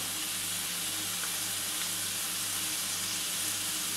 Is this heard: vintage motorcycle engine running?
no